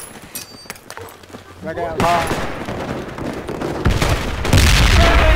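Gunfire and a grenade blast in a shooting video game: bursts of shots and a heavy boom build through the clip, growing louder toward the end, with a voice shouting over the action.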